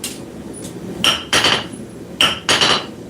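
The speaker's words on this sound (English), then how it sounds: "I am using a 3-pound hammer" A three-pound hammer strikes hot metal during forging in a workshop, with four sharp, ringing blows in two pairs, close and loud with no talking.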